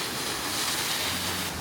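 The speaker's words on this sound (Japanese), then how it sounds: "滝、まっすぐ落ちてるね" A large, straight-dropping waterfall in Hinokage, Miyazaki, sends up a steady, broad roar with a windy rush, filling the air evenly without breaks and with no one speaking.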